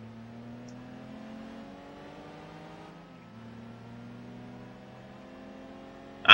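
Hyundai race car engine in Gran Turismo 4 during a one-make race, a steady droning hum with slowly shifting pitch held throughout, ending in a sudden loud burst at the very end.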